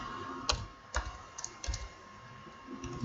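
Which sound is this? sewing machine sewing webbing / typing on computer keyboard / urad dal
typing on computer keyboard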